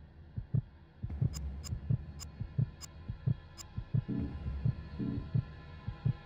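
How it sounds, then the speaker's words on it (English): Heartbeat effect in the video game Silent Hill Origins: a steady, soft low double-thump repeating about every half second over a faint hum, with a few sharp ticks, no talk. "I can hear my heart beating."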